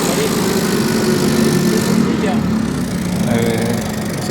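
A TCM forklift with a duplex mast and pneumatic tires, powered by a four-cylinder Nissan H20 LPG engine, runs at a steady idle, a continuous mid-loud drone with voices talking over it.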